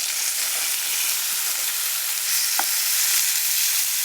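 Fish sizzles and fries in a pan on a hot wood stove, a steady close hiss with faint crackles and one brief clink, no talking.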